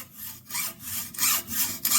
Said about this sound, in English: I think I'll take the hacksaw and cut that off now.